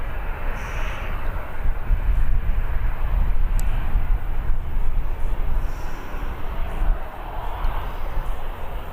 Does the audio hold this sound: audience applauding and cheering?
no